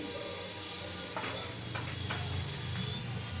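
Spring onion greens sizzle and hiss in a hot pan for fried rice, with a steady frying noise and a few soft scrapes of stirring, no voices over it.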